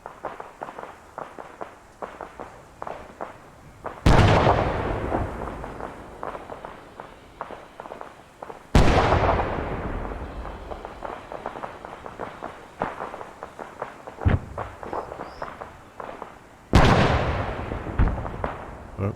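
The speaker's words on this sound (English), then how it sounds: "Pop a nade over there, see what happens." Grenade blasts in Arma 3 (Antistasi, Chernarus) arrive as three loud, sharp explosions with long rumbling decays, spaced several seconds apart, over a steady patter of footsteps and scattered distant gunfire.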